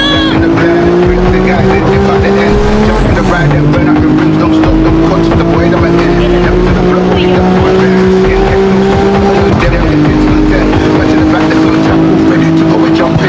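Car engine drifting in the CarX Street mobile racing game, a loud steady engine drone with pitch glides and shifts, running continuously throughout with excited talk over it.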